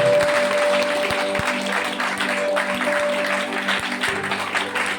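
A church congregation at a Christmas service claps in a steady, sustained burst of applause with some distinct individual claps standing out, fairly close and even throughout.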